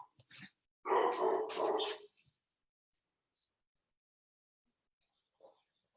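A dog barks during a live interview, a short burst of loud, close barks followed by a few faint yips and quiet noises, with no talking over it.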